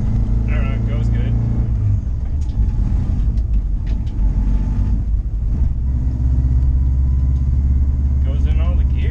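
Car engine with a JDM transmission swap in a RallyXT build, rumbling steadily as it drives up through the gears, loud and close, with brief shifts and turbo boost sounds.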